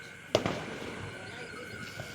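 A single sharp Diwali firecracker bang goes off close by, followed by a short fading tail, while people talk over it.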